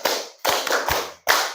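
Students in a classroom clap out a rhythmic clapping game: four sharp, loud hand claps at a steady beat, each with a short ringing tail and no voices over them.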